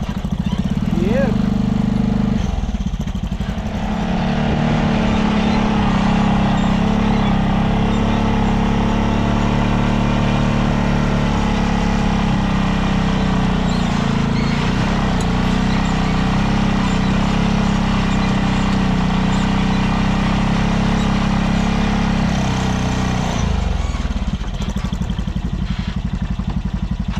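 A Honda Pioneer 500 UTV with an upgraded turbo drives along, its engine droning loud and close with gear changes and rising revs, while people talk over it.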